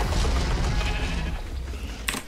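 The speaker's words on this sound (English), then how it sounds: "We got another sheep." A sheep in the video game Ark Fjordur bleats in a wavering cry across most of the stretch, close and fairly loud, followed by a sharp brief noise at the end.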